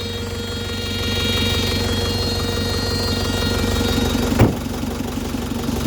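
A used six-wheel truck's diesel engine idles steadily close by, a continuous low rumble with a fast rhythmic knock and a brief clunk near the end.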